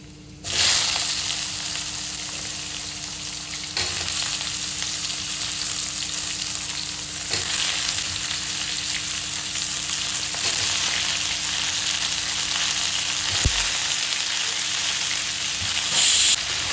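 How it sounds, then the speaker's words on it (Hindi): Pumpkin fries in a pan with a loud, continuous sizzle that holds steady throughout, with occasional soft stirring sounds and no one speaking. "अब बस इसमें कद्दू डाल देंगे और उसको अच्छे से पकने देंगे।"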